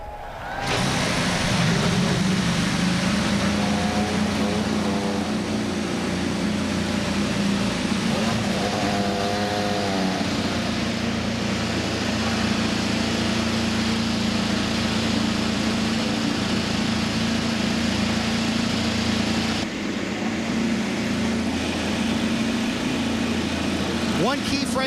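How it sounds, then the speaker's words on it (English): IndyCar race car engines at the Milwaukee Mile for the 2014 ABC Supply Wisconsin 250, starting and settling into a loud, steady idle with a deep low rumble and a few revving swells from the field of cars. "Drivers, start your engines."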